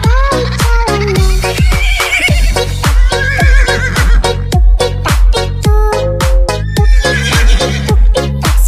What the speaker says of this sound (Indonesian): Tuk-tik-tak suara sepatu kuda.